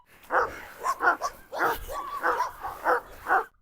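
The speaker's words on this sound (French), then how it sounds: "Promener Carlos, c'est comme 10 chiens à la fois." A Cane Corso barks and whimpers in a rapid run of yips and yelps, close and loud, with excited bursts repeating over several seconds during rough play.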